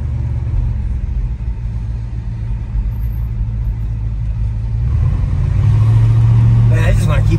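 A 1965 Chevrolet Impala wagon with a 409 engine rumbles steadily from inside the cabin while people talk, the low engine note swelling louder as it accelerates near the end.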